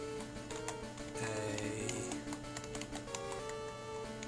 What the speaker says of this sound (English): I'm trying to type it in almost.